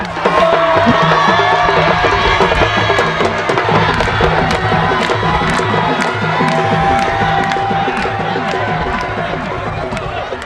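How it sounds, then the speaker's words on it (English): A whole village crowd in Senegal cheers and celebrates the winners of a local contest, a loud, continuous roar of voices with shouts and whistles layered over steady background music. "The feast may begin with the crowd celebrating its winners."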